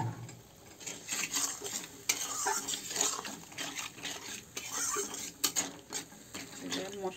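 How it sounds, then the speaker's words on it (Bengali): A metal spoon scrapes and stirs spice paste with a splash of water in a pan for a Bengali rohu fish curry, giving repeated clinks and scraping over a soft background sizzle, close and moderately loud. "জল দিয়ে একটু মশলাটা কষাই নেব"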